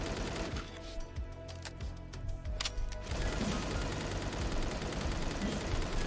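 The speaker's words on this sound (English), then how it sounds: "it does seem like gun was shooting faster for a moment, didn't it?" Rapid automatic gunfire from a weapon in the roguelite bullet-heaven game Apocalypse Party, a dense stream of quick shots mixed with game effects, staccato at first and then thickening into a continuous loud barrage.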